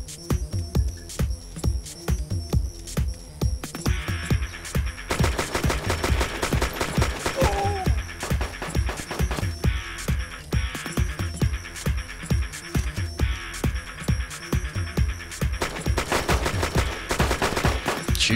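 Gunfire in DayZ PVP on the Taviana map cracks out in long, rapid automatic bursts, loud and repetitive with short gaps, sometimes overlapping, under a steady low hum with no talk.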